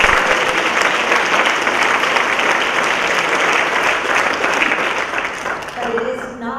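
Sustained applause from an audience at a community center talk, dense and steady throughout, thinning slightly near the end.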